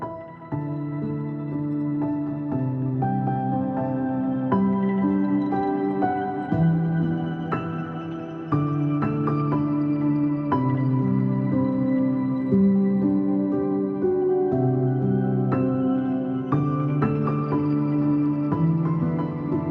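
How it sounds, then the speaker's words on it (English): Emotional piano melody for an Asian lofi track, produced in Logic Pro: soft, sustained chords and a gentle melodic line play continuously and fairly loud, with no voices. "So here is the first idea of the piano sounds I create."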